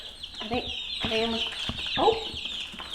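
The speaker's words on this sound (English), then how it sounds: "I'm trying to listen for chickens." Backyard homestead chickens in a coop cluck and squawk in short, irregular bursts, close by, with several overlapping calls and a faint background hiss.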